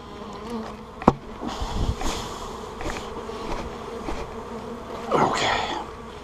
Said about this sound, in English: That was a bunch of bees in that box.